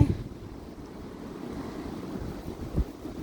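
Strong wind gusting outdoors beside a small backyard pool strewn with leaves, a steady low rumbling buffet across the microphone with a harder gust near the end and no talking.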